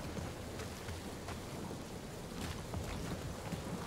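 Rain with distant thunder sounds in a stormy scene in the video game Guardians of the Galaxy, a constant broad wash of falling water with a soft low rumble beneath, fairly faint and unbroken.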